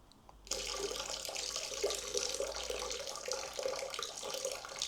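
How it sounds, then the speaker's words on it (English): Water pouring from a Firemaple Ramen camping pot, a steady splashing stream that starts abruptly after a brief quiet moment and runs on evenly, close up, with no talking. "Let me just show you how this pours beautifully."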